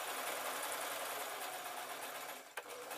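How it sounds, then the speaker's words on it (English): Sewing machine stitching steadily over a pleat on toddler shorts, a continuous close whirring drone for about two and a half seconds before it stops with a small clunk. "and then I'm going to sew over."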